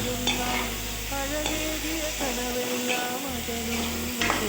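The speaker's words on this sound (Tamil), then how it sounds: "தக்காளி, வெங்காயம், உப்பு எல்லாம் சேர்ந்து நல்லா ஒன்று சேர்ற மாதிரி ஒரு கிளறி" Tomatoes, onions and salt sautéing in a pan for sambar are stirred, giving a steady close sizzle and frying hiss with scraping stir strokes throughout and no speech.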